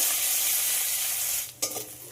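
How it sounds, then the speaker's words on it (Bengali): Chopped onion frying in hot oil with dry chilli and cumin gives a loud, steady close-up sizzle, broken near the end by a quick stir and a sharper spatter. "পেঁয়াজটা একটু হালকা ব্রাউন করে ভেজে নেব।"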